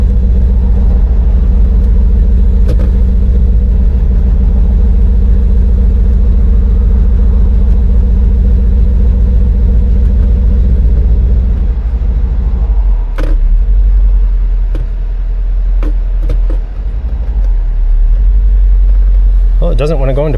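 A Mercedes-AMG E63 V8 with a modified exhaust idles with a deep, loud, steady rumble close up for about twelve seconds, then quiets as a few clicks and handling noises take over, with people talking over it.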